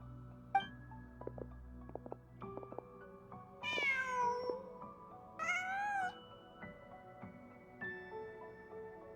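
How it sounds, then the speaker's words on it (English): A cat in the video game Genshin Impact meows several times in a snowy winter scene, clear drawn-out mews rising and falling over soft game music and faint effects. "Just a cat."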